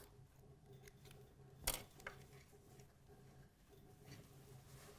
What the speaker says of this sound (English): you back tack and cut the thread off